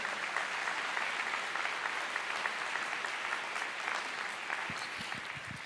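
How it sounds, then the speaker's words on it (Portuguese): A church congregation applauds steadily during a sermon, a dense and even spread of clapping heard at moderate level, with a few low thumps near the end. "pode aplaudir ao Senhor."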